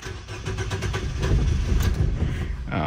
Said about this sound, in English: we're going to listen for this engine crank rhythm